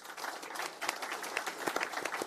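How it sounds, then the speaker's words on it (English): A conference audience applauds a panel in a steady, moderately faint patter of many hands clapping, with no one speaking over it. "Just give a round of applause to our panel."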